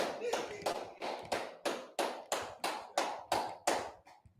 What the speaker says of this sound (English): I'll clap it up.